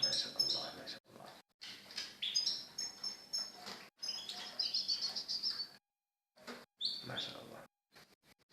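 Mated goldfinches at their nest give high, rapid chirps and twittering trills in bursts separated by short pauses, with a voice speaking briefly nearby.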